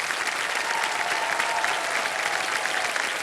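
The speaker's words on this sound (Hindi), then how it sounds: "ताली बज जाए इनके लिए" Studio audience on the quiz show KBC applauds steadily, a dense, even wash of clapping that continues without a break for over three seconds.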